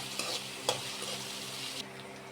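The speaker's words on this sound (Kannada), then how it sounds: "ಇವಾಗ ಆನಿಯನ್ನು, ಮೆಣಸಿನ್ಕಾಯಿ ಹಾಕ್ಕೊಂಡು ಫ್ರೈ ಮಾಡ್ತಾಯಿದ್ದೀನಿ." Onion and green chillies fry in a pan with a steady close sizzle and a couple of light stirring clicks, continuous and fairly quiet, with no voices.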